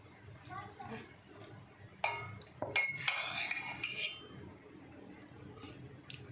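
Dhokla batter being mixed with buttermilk in a bowl, with clinks and scrapes of a spoon against the vessel, louder in the middle stretch, while a voice talks quietly underneath.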